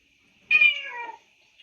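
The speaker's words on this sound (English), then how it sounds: "She keeps meowing." A house cat gives one clear, close meow that rises and then trails off downward, with quiet around it and a soft tap just after.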